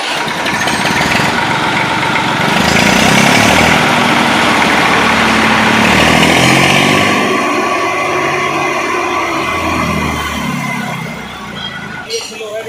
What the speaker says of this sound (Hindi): इस ट्रैक्टर की हम आपको आवाज़ भी सुनाएंगे